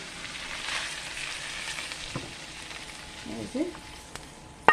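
Nasi goreng being mixed and stir-fried in a pan gives a soft, steady sizzle with intermittent scraping stirs and a few clinks, moderately close and alone.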